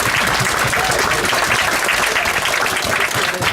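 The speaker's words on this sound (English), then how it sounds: "Should we have a clap for that?" Wedding guests applauding during the speeches, a loud, dense, sustained wash of clapping from a full room that carries on evenly throughout.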